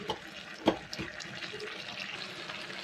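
About half a glass of water poured into a cooking pot for a moong dal and ridge gourd palya, heard as a brief close splash among soft kitchen noise, with faint talk in the background.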